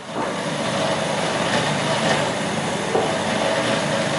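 A blender whizzes hummus ingredients with a pinch of salt, a loud continuous motor drone with grinding texture held steady throughout, close by.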